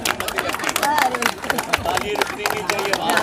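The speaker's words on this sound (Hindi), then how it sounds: "ताली रुकनी नहीं चाहिए" An audience at a Guru Purnima honouring ceremony claps steadily to welcome a guest, with dense, continuous applause mixed with crowd murmur and a voice speaking over it throughout.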